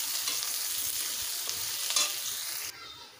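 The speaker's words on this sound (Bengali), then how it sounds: "পেঁয়াজগুলোকে লাল লাল করে ভেজে নেব।" Chopped onion and garlic frying in oil in a pan with a spatula stirring, a close hissing sizzle with occasional scrapes, then the sizzle drops sharply near the end.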